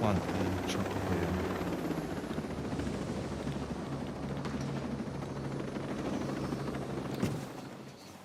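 A helicopter's engine and rotor roar steadily from the Ghost Recon Breakpoint video game, with a brief sharp bang near the end and someone talking over it.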